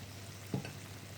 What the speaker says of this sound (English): And again we stir, stir, stir.